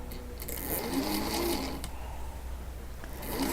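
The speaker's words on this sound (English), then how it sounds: "we are going to sew right along here." A sewing machine stitches a quarter-inch seam through quilting fabric, a quiet steady mechanical whir with faint clicks and brief pauses, close by and alone.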